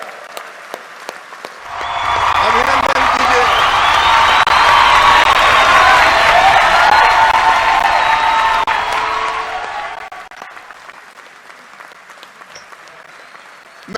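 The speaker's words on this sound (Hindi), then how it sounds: "तालियां बजा के स्वागत कीजिए," A crowd at the Madhya Pradesh startup policy launch in Indore bursts into loud, sustained applause welcoming the Prime Minister, lasting about eight seconds before fading, with a voice speaking briefly around it.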